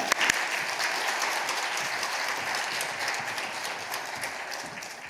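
A church congregation at a Wednesday worship service applauds steadily for about five seconds to welcome the pastor to the pulpit, a dense, even wash of clapping from a large crowd that tapers slightly at the end.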